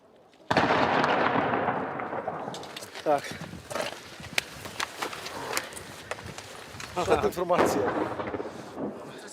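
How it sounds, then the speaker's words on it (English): Gunfire from a frontline gunfight in Bakhmut, Ukraine: loud, sharp cracks and booming reports ring out irregularly over a continuous rumble, with voices speaking intermittently nearby. "The information is secret, but I can tell you it's a gunfight. Our forces shoot them and they fire back."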